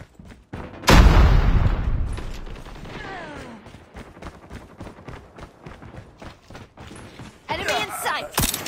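Weapons clack and ratchet through reloads in Call of Duty Mobile multiplayer team deathmatch, metallic clicks in quick succession after a loud burst of gunfire, with scattered shots and movement around.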